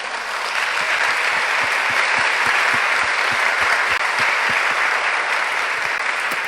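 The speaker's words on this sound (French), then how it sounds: "pendant qu'ils nous applaudissent" An audience at a Quebec tourism event applauds in a loud, dense, steady wash of clapping that keeps going without a break.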